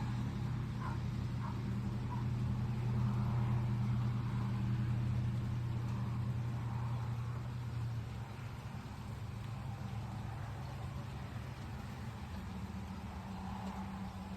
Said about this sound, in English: A lot of cars.